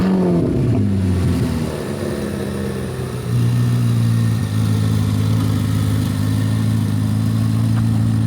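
A car engine idles and revs nearby beside a 2025 Chevrolet Corvette C8 ZR1, opening with a throaty rev that falls away, then settling into a steady, loud, droning idle with a slight dip midway.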